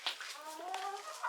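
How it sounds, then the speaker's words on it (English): A hen clucks on a small farm near its run, a short series of soft, throaty clucks at a moderate distance over quiet outdoor ambience. "Oh, there's a chicken."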